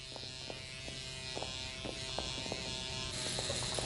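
A steady electric shaver hums close and continuous while shaving, with a faint buzzing drone and small clicks as it moves, and no talking.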